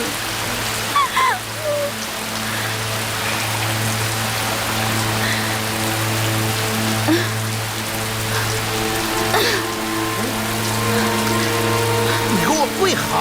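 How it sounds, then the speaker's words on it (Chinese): Heavy rain pours down steadily in an old palace courtyard, a continuous dense hiss of drops that holds the same level throughout. A low steady hum sits underneath, and no voices are heard over the rain. "这雨可是越下越大了"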